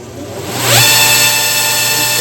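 Motor of a homemade 2x72 belt sander switched on through a regular light switch, spinning up with a rising whine around the one-second mark, then holding a steady, loud hum.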